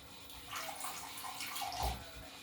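Cold water poured into a measuring jug while cooking, a soft steady splashing and trickle that swells near the end, close and moderately quiet with no talk over it.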